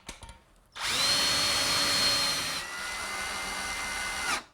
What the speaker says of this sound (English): I'll drill a pilot hole first and then install a screw.